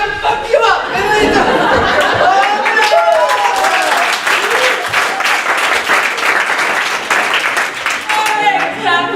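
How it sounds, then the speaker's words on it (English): An improv comedy theater audience gives loud, sustained applause mixed with laughter, cheers and whoops, with voices calling out over the clapping. "Alright, clap for Michael."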